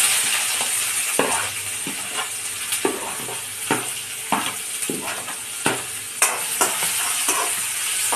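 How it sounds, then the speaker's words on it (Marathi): Onion softens in hot oil in a pan, sizzling steadily up close while a spatula scrapes and taps against the metal in a loose, repeated rhythm. "कांदा थोडा भाजून घ्यायचा। नरम करायचं कांद्याला"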